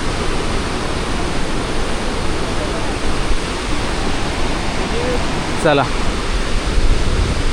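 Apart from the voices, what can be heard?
Dhareshwar waterfall at Marleshwar in monsoon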